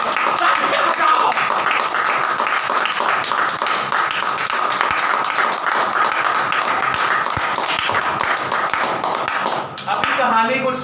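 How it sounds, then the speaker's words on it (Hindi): A church congregation claps loudly and steadily, a dense continuous wash of applause that carries on for several seconds before tapering slightly near the end, with no talking over it. "तालियां दे, तालियां बजाओ।"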